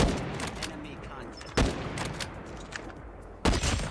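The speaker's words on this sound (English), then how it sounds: "I missed three shots" Locus sniper rifle shots in COD Mobile, two sharp, loud gun cracks spaced about two seconds apart over continuous game noise.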